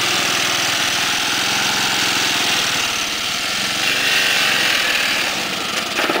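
A lawn tractor engine roars steadily at close range while ramming a Power Wheels toy car, with rough mechanical rattling and grinding throughout and no pause in the noise.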